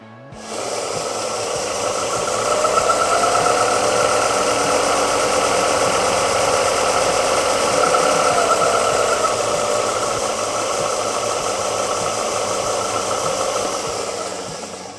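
A Procraft BDS400S disc-belt grinder switches on and ramps up to a steady mechanical whir with a fine rattling hum, running loud and close for about fourteen seconds before winding down.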